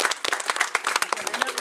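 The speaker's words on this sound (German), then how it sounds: "So, einmal Applaus." Brief applause at a trophy ceremony after a seven-metre penalty shootout final, a small group clapping in quick, uneven bursts with voices mixed in.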